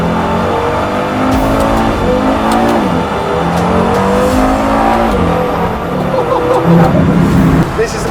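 A €300,000 high-end car drives with its engine loud throughout, revving and rising in pitch in repeated surges over a steady rumble of road and cabin noise.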